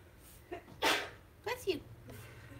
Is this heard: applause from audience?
no